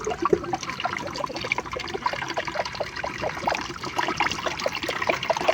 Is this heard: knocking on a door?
no